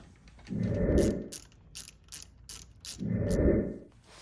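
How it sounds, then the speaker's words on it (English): A ratcheting Allen key tightens 5mm bolts on a Lasher Sport hand cycle, giving short bursts of close clicking with two heavier grinding strokes between them. "you're gonna wanna tighten these two bolts right here, these two 5mm Allens"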